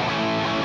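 Electric guitar played through a real Marshall amplifier, a short burst of dense, sustained distorted tone at steady loud level, heard alone without drums.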